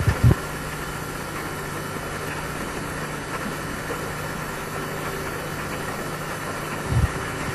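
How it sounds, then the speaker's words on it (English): Floating gold dredge plant on the Fortymile River in the Yukon washing and screening gravel, a steady low mechanical drone and hum that stays constant throughout, with a couple of brief knocks at the start and end. "Gravel, excavated from the face at the front of the pond, is fed into the floating processing plant where it is washed and screened."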